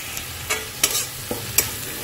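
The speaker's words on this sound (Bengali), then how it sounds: "এটা মশলাটা কষিয়ে নিই ভালো করে" A spice mix with Kashmiri chilli powder being fried in a pan, cooked down for an egg curry. A soft, steady sizzle is broken by four or five quick spatula scrapes, close and fairly quiet, with no voices.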